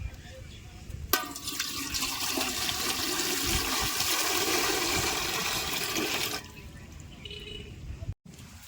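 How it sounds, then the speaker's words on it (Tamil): Water poured into a pot while cooking a caramel cake at home, a loud continuous splashing rush lasting several seconds before stopping abruptly, with quieter room noise around it. "தண்ணி ஊற்றிக்கலாம்."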